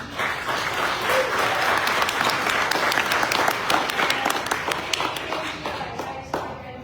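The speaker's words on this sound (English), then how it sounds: "Give the big applause to them." Sustained applause from a sizable crowd, dense and steady clapping that holds strong throughout before thinning slightly toward the end.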